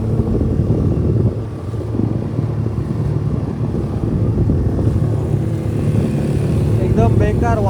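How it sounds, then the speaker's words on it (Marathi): Stormy wind and breaking waves at sea, heard from a fishing boat out for pomfret, make a dense, loud, continuous roar and rush throughout, with a voice briefly near the end. "एकदम बेकार वादळ झालाय असं वाटतंय"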